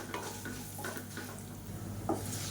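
Garlic and curry leaves sautéing in ghee for podi idli give a faint, steady sizzle with soft spatula scrapes and a small knock near the end.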